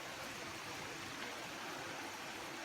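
Running water at Seven Springs on Rhodes, Greece, heard as a steady, even rush of flow that fills the whole moment without pause. Close and fairly loud, with no voices.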